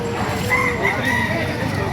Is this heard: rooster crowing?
yes